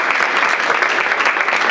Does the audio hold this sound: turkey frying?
no